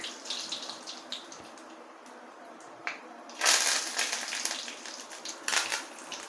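Dried red chillies and curry leaves, added after mustard seeds, sizzle and crackle in hot oil for a carrot chenchki, a close, steady frying hiss that swells louder partway through, with small pops and no talking.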